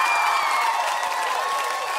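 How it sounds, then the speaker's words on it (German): A congregation at a children's church service claps, a dense, steady burst of applause that fills the space for a couple of seconds. "Komm mal, ein Applaus für Jesus."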